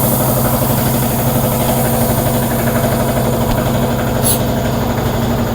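A tire vulcanizing machine's engine runs steadily at a roadside repair shop, a loud, continuous idling drone with a low vibrating hum and no break in level.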